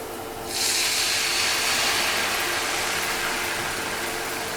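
Canned tomatoes hit a hot pan for shakshouka, setting off a loud, steady broadband sizzle that starts abruptly after a brief pause and holds evenly to the end with no voices.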